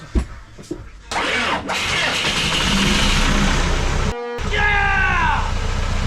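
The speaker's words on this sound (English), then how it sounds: "The only thing it needs the battery for is to turn the starter over, to turn that engine over to start combustion." A sailboat's inboard engine cranks and catches, then runs with a steady loud rumble; the running engine continues under an excited voice near the end.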